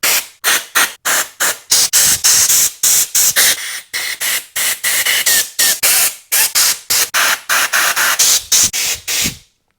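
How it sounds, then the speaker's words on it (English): Compressed air blasts through the passages of a 1970 Honda CL100 carburetor in dozens of short, loud, close hissing bursts, fired in a rapid, uneven rhythm. "I've got an air compressor. I'm going to blow out all of the passages."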